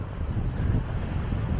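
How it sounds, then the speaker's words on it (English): Steady wind buffets the microphone on a morning at Erris parkrun, a low continuous rumble with gusty fluctuations and no voices. "Windy morning."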